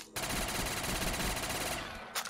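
Rapid automatic gunfire cutting down zombies in Black Ops 3 custom Zombies, a loud continuous burst of shots lasting about two seconds before stopping, then a few trailing clicks.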